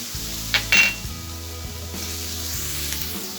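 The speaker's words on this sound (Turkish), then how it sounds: "Evet, kıymamız kavruldu." Minced meat browning with onions in a pan gives a steady close sizzle, with a couple of brief metallic clinks from a utensil early on and a continuous frying hiss.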